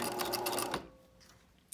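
A sewing machine runs a short burst of stitching on period underwear, a steady close whir that cuts off abruptly, leaving a quiet room.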